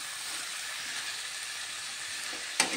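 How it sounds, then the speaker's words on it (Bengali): Dried fish curry sizzles quietly and evenly in a pan as it is stirred, a soft steady hiss ending in a brief louder scrape or clatter near the close. "এবার এটাকে একটু নেড়ে দেব।"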